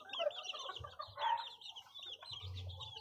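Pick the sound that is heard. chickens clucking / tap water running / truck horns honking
chickens clucking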